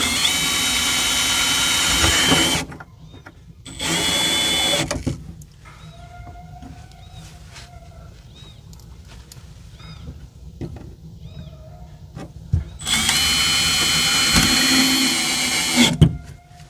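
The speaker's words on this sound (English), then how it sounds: "whenever you're drilling into a vehicle" A power drill bores into a truck bed in three loud, close bursts of whining, grinding drilling, separated by quieter stretches of faint clicks and handling noise.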